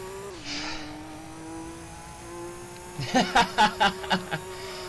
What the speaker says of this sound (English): Gran Turismo is definitely not known for its accurate engine sounds.